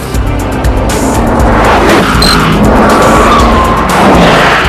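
A Bugatti Veyron Super Sport on Michelin tyres driving at high speed, a loud continuous engine roar with tyre noise swelling and holding steady throughout, close and unbroken.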